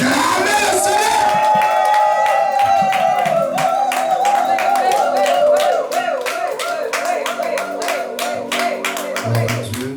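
A church congregation claps and cheers to acclaim the Lord, with rapid rhythmic handclaps under a loud, sustained wash of shouting and singing voices.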